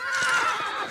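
A horse lets out a single, close, high whinny that wavers briefly and stands alone without talk.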